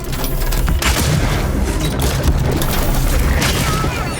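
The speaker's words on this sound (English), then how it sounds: "Shotgun." Shotgun firing in the video game Cronos: The New Dawn, with heavy booming blasts over a loud, dense layer of game noise and continuous rumble.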